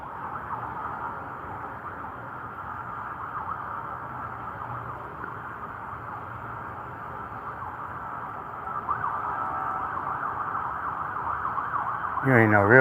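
Police car siren wailing steadily at a moderate distance, a continuous rising and falling tone that grows slightly louder toward the end, over low traffic rumble.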